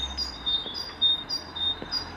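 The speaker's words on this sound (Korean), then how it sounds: "새소리가 계속 들리더라고요." Several brief high bird chirps repeat in quick succession over a low steady background hum on a quiet morning in Frankfurt, with no voices.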